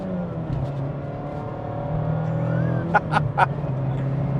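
A 2025 Mazda MX-5 Miata ND3 RF Grand Touring with a 6-speed automatic and paddle shifters drives through a corner, a steady engine drone and road noise from inside the cabin, with a few brief sharp chirps near the end.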